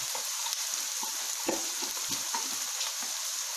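Vegetables stir-fried over high heat in a pan sizzle and hiss steadily, with irregular scraping and tossing clatters close by.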